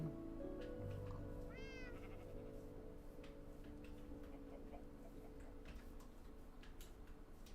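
A Minecraft cat gives a single short meow early on, faint against a low in-game background hum with soft ticking sounds, and no voices.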